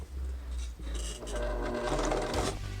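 A sewing machine stitching a patchwork seam runs in short close bursts with a low motor hum and rapid needle chatter, pausing briefly between runs.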